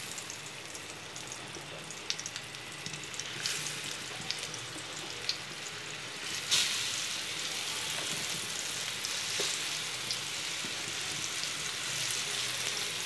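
Pointed gourd (potol) frying in hot oil, a continuous close sizzle with scattered pops and crackles and a brief louder burst partway through, no talk.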